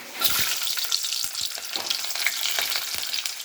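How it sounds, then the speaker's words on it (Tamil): Onions and fenugreek seeds fry in hot oil for a yam tamarind curry, a loud, close, continuous sizzle broken by occasional stirring scrapes. "வெந்தயம் போட்டுக்கலாம் இதில் வெங்காயத்தை போட்டுக்கலாம்"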